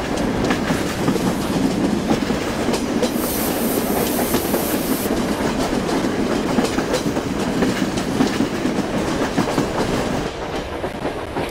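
A Vande Bharat Express on the Solapur to Mumbai run in the Train Simulator PC game rolls steadily with a dense, continuous rumble and clickety-clack of wheels, loud and unbroken, with a brief high squeal partway through.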